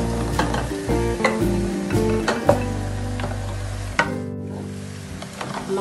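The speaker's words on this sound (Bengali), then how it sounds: "আমার পেঁয়াজটা ভাজা ভাজা হয়ে আসছে" Beef and browned onions frying in a pan over a high flame, a steady close sizzle broken by repeated scraping stirs at an irregular rhythm.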